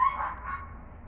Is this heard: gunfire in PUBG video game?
no